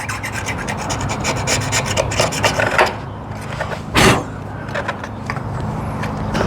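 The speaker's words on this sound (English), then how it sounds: "I'm not damaging it with this knife. This knife is as blunt as you like. Just acting as a flat scraper." A blunt knife used as a flat scraper on a Honda VF1000F2 engine surface, rapid repeated rasping strokes close and loud, a brief pause, one sharp louder scrape, then more steady scraping.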